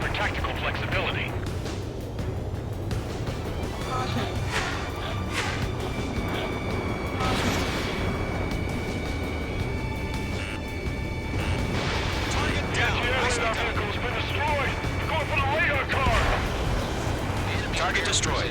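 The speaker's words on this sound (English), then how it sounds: "It's an air raid! We're being attacked by enemy aircraft!" Air-raid bombardment in the Ace Combat 7 video game: dense, continuous rumbling explosions and gunfire-like bursts under a steady hum, with voices talking over the loud, busy battle din throughout.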